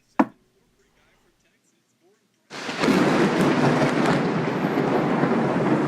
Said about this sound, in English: Even with his ears covered, the crash of thunder is deafening.